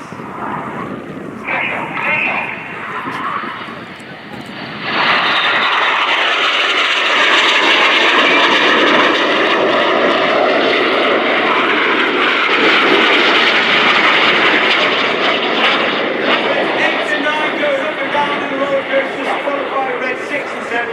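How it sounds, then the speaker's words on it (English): Red Arrows jets diving low over the airfield at an airshow, a loud, sustained roar swelling in after a few seconds and holding, with commentary over the top. "Each pair will now dive down to only 100 feet above the airfield."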